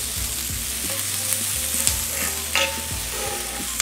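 Onions caramelizing in a hot pan sizzle steadily with a continuous crackle, joined by occasional scraping stirs and soft utensil clinks close by, with no talking.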